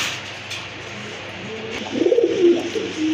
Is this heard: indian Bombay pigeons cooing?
yes